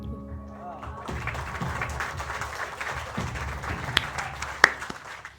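An audience bursts into applause at a poetry recital, a broad wash of clapping that swells after the first second and holds steady, with a couple of sharper claps near the end and a voice speaking briefly underneath.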